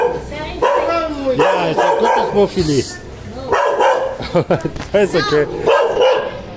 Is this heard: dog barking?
yes